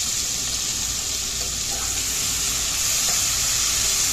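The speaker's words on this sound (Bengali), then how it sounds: "এবার এই নুন হলুদ দিয়ে মাখিয়ে রাখা পেঁয়াজগুলো ঢেলে দিলাম।" Onions coated in turmeric and salt hit hot oil and sizzle, a dense, even frying hiss that holds steady throughout, close and loud with no talk.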